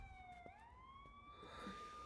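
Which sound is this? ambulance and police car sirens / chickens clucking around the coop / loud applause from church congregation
ambulance and police car sirens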